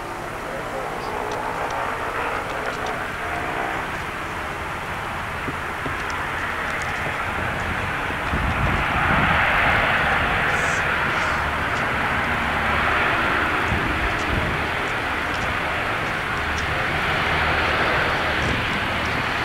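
B-17 Flying Fortress with tired, time-expired engines, heard at an airfield as a steady, broad engine roar throughout that swells slightly midway, with people talking over it.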